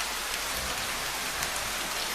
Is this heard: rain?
yes